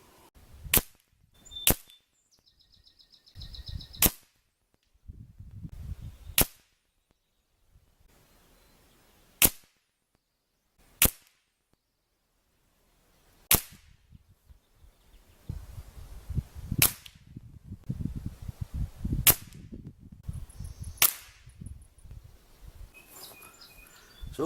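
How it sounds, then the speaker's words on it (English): A Benjamin Maximus PCP air rifle fires about a dozen sharp, cracking shots at 20 yards, each a distinct snap separated by pauses of a second or more, with faint birdsong and outdoor background between them. "First shots are at 20 yards"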